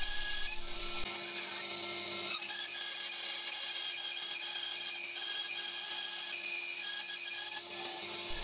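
A mini bandsaw cuts a pug dog face profile from a wooden blank with a steady, bright rasping whine that keeps going unbroken and close, with no voices.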